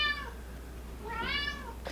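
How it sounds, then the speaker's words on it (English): A cat meows twice in the background, two drawn-out calls about a second apart, fairly faint over a steady low hum with no talking. "There's my cat in the background"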